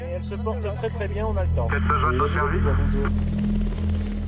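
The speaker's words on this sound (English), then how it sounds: "a helicopter is scrambled to pick her up" A mountain rescue helicopter's steady low rotor and engine drone runs throughout, close and loud, beneath a voice speaking over it, in the Chamonix Mont Blanc area.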